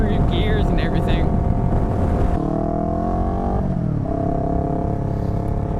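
A 2015 Yamaha R3 motorcycle engine and exhaust running steadily and loud, a continuous droning roar with shifting pitch as it pulls through gears, heard close without pauses.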